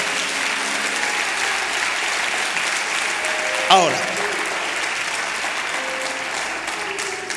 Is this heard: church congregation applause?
yes